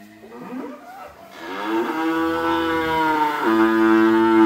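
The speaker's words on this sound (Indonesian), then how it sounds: "Selanjutnya sapi yang ke-6 ini ada jenis sapi pegonan yang ini ya." A Peranakan Ongole (pegon) cow moos at a cattle trader's yard, one long drawn-out low moo that swells and holds, close and loud with nothing else over it.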